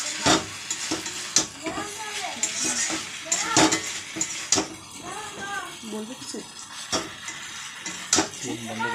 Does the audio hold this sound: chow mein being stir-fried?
yes